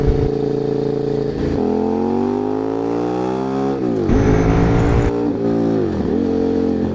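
A KTM 990 SMT motorcycle accelerating hard through several gears, loud and close, with the engine note climbing in long sweeps broken by quick shifts, and no talking.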